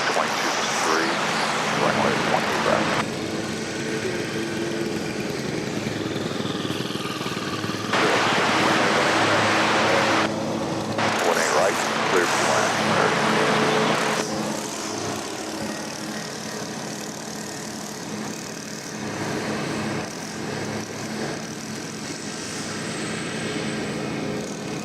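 A CRJ 701ER regional jet at DFW Airport gives a loud, steady engine roar with broadband jet noise that swells and shifts in bursts across the whole stretch, the nearby airport rumble continuing underneath.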